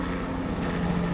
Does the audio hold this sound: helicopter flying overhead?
yes